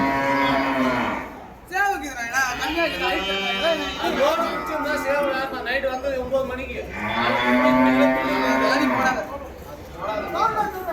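Repeated long moos from cattle at the busy Vaniyambadi cattle market, several calls in succession, loud and near, with market chatter and voices underneath.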